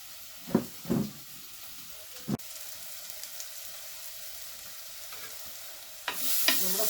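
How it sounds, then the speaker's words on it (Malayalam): Onions sautéing in a pan for Kerala-style nadan chicken curry: a low, steady sizzle with a few scraping stirs near the start and a brief louder hiss at the end. "നമ്മുടെ സബോള നമ്മൾ വാട്ടിക്കൊണ്ടിരിക്കുകയാണ്"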